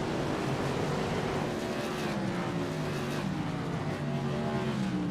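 Modified race car engine at Oxford Plains Speedway in the iRacing sim, a loud steady roar with a droning pitch that slowly sags and shifts through the whole stretch, no voices over it.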